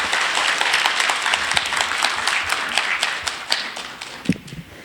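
Audience applause fills a lecture hall at the close of a guest talk on consumer trends, a steady wash of many hands clapping with scattered louder claps and a thump near the end.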